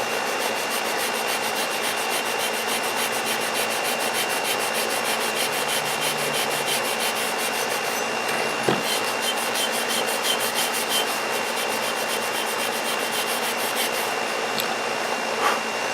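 Steady, close scrubbing and rubbing as rust is scoured off an old axe head, a continuous abrasive rasp running throughout with a couple of brief knocks, no talking.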